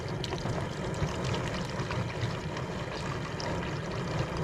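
Hydrogen peroxide poured into a pot of water heating toward a boil for cleaning deer skulls, a steady close splashing pour that holds at an even level throughout.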